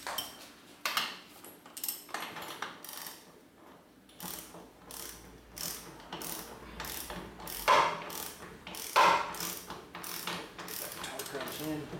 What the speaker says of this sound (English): always push from the end of your torque wrench, not from the middle